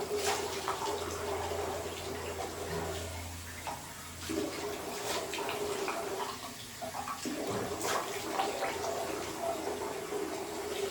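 Cold water runs from a tap in a steady broadband rush that continues throughout, with brief dips and some knocks and handling noises mixed in.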